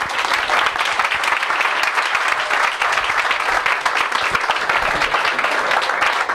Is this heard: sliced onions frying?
no